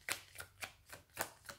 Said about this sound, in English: I'm going to shuffle the card